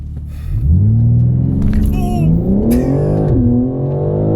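A BMW M car set to race mode accelerates hard, its engine note rising steadily through a long pull and shifting partway, loud and close from inside the cabin.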